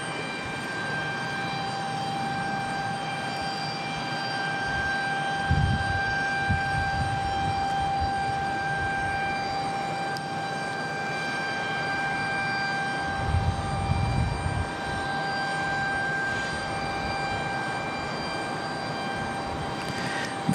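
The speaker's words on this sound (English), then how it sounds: "So here comes our next arrival. I believe that's another American E175." An American Airlines Embraer E175 jet arrives at Raleigh-Durham International Airport, its engine hum a steady continuous drone with whining tones held throughout, swelling slightly in two brief low rumbling surges.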